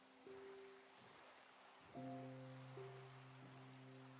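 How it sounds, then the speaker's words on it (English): Steady, faint hiss of rain falling in Minecraft, with soft sustained tonal notes layered over the downpour. "Yep, still raining."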